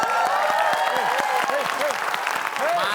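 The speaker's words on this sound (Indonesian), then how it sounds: "Masih ada tepuk tangan." Audience applause in a studio show rises as a steady wash of clapping, with people talking and laughing loudly over it throughout.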